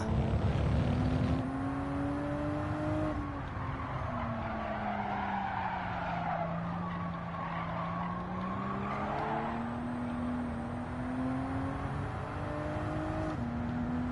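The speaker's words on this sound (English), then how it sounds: "I thought I'd broken in plenty of time for that corner, but it just kept on skidding on" A Toyota Supra in a Toyota Cup race in Gran Turismo 7 skids through a corner, tires squealing in a long wavering tone over a steady engine drone, with no talk.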